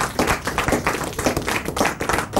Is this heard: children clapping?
yes